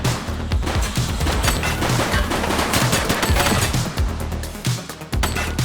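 Gunfire fills a police action video game scene in The Precinct, with dense, rapid bursts of automatic shots rattling continuously, loud and close, with brief gaps near the end.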